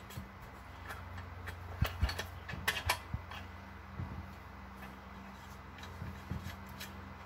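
A wrench tightening a 15mm nut during a Suburban 4L70e transmission build, faint creaking and clicking ratchet-like strokes in short irregular bursts, quiet and close with no talking.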